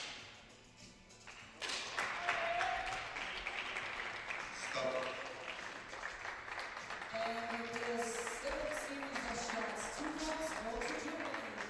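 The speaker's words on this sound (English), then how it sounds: "So the German team clap along because of another series win." A German junior air rifle mixed team claps along after a series win at a shooting championship, rhythmic hand claps entering sharply after a quiet opening, with a commentator talking over them and tonal music or tones underneath.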